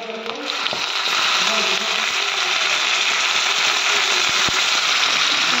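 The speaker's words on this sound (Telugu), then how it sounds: "సన్నగా కట్ చేసుకున్న ఆనియన్స్, కరివేపాకు వేసి ఫ్రై చేసుకుంటున్నాను" Sliced onions and curry leaves frying in a pan for old-style vermicelli, a steady, dense sizzle that holds close and loud throughout with faint clinks now and then.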